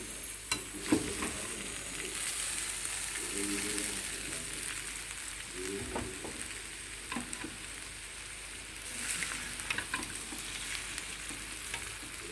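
Rice is tossed and stir-fried in a hot pan for corn fried rice, with a soft steady sizzle broken by several scraping and clattering spatula strokes.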